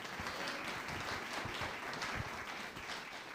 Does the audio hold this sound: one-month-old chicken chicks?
no